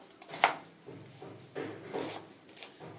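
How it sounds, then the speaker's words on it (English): A knife cuts onions on a cutting board, giving a few separate soft chops and slicing taps spaced irregularly, close and quiet with no talking. "I'll first half cut the onions longitudinally."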